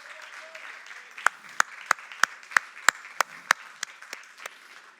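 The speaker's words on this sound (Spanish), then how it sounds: "Dale un aplauso al Señor." A church congregation claps in praise during a Spanish-language worship service, with a steady patter of many hands building into a run of sharp, evenly spaced claps. Close and moderately loud, with voices in the background.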